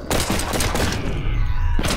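Gunfire rattles in the zombie video game Dead Purge Outbreak, a rapid, loud burst of shots close up that fades after a moment.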